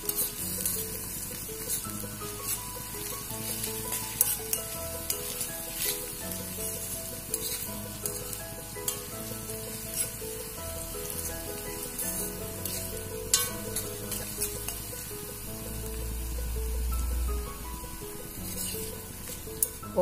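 Onions sauté in a pan for wheat flour dosai, giving a soft, continuous sizzle with occasional crackles and pops, fairly quiet and steady with no talk.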